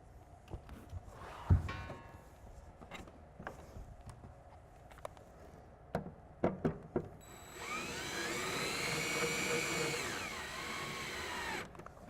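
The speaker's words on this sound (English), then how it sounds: "For speed, I'm using a drill to set these." A power drill whirs steadily for several seconds after scattered clicks and knocks, close by and moderately loud, driving screws into wood while installing a 2016 Extang EnCore tonneau cover on a truck bed.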